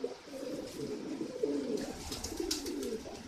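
Racing homer and Madrasi pigeons coo in low, throaty rolling phrases, several birds overlapping at close range with a faint higher chirp or two near the end.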